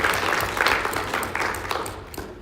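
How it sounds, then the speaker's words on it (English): A round of applause from the audience at an annual report presentation, moderate and fairly dense, with individual claps standing out as it thins toward the end. "Can we please give him a round of applause?"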